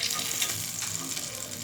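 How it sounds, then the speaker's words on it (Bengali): Chicken kababs fry in a pan with a close, continuous crackling sizzle, loud and steady throughout with no talking. "এখন কাবাবগুলোকে ভেজে নিতে হবে এপিট ওপিট করে।"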